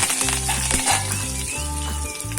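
Cumin and mustard seeds crackle and fry in hot oil as curry leaves are added, giving a steady, close sizzle with small pops throughout and no voices.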